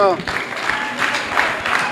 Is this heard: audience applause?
yes